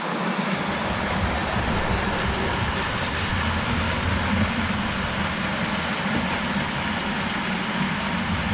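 A small OO gauge model tank engine runs along its track with a continuous rattling rumble and faint clicking, steady and fairly close throughout.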